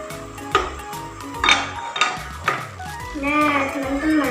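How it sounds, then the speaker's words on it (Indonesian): Hot cooking oil being stirred in a pan, with a utensil clinking and scraping against the metal at a steady rhythm over a faint sizzle. "kita aduk minyak supaya minyak matang semua"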